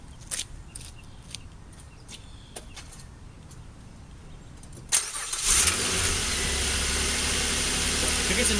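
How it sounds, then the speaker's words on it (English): An automatic car's engine cranks and catches at about five seconds, then settles into a steady, loud idle that fills the rest of the clip, preceded by faint clicks and handling noises. "And then we're ready to turn the car on."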